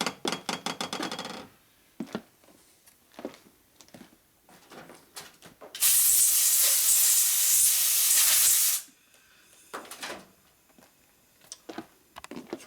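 Compressed air blasts oil out of a Harley-Davidson Twin Cam engine part during a camshaft install on a Road Glide, a loud steady hiss lasting about three seconds between quieter clicks and handling noises in a workshop.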